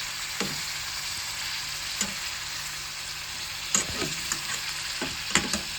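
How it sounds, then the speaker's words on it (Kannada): Masala chicken frying and being stirred in a pan: a steady sizzle runs throughout, broken by a few sharp spatula scrapes and clinks against the pan, close and clear with no talking. "ಒಮ್ಮೆ ಮಿಕ್ಸ್ ಕೊಡೋಣ ಚೆನ್ನಾಗಿ."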